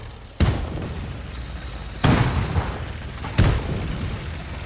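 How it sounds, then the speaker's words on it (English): Mortar shells explode three times in Men of War 2, each a loud close boom followed by a rumbling, debris-filled tail that fades before the next hit. "Oh god, we've got mortars"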